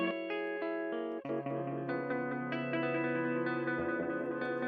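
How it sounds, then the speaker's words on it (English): Sustained electronic tones from an iOS tape echo app ring with a thick, repeating echo, notes smearing and layering over one another in a continuous wash of delayed repeats. "you can hear there's a different kind of reverb, delay echo going on there."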